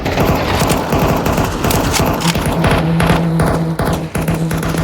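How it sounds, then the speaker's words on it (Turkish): Dense, continuous automatic gunfire sprays in a Counter-Strike match, rapid overlapping shots with game effects filling the whole stretch at close range and high volume. "bu silah ne biçim ya her yeri tarıyorsun"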